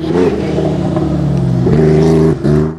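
A Bugu rally buggy powers out of a corner at a sprint rally in Maluku, its engine revving loudly and close, climbing in pitch, a brief lift near the end, then pulling hard again.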